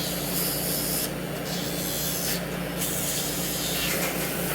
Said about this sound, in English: if you wanted to just use just the Dremel, you can put it up on the higher setting